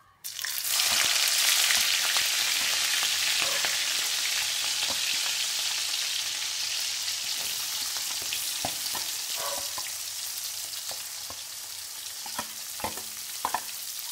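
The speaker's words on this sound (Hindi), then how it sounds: "चलो ये फ्राई हो गया है" Green chillies sizzle steadily in hot oil in a pan while being stirred, a continuous close frying hiss with occasional sharper spatters and scrapes toward the end, no voices.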